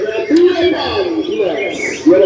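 Caged songbird chirping and calling nearby in repeated short bursts, with a person speaking over much of it.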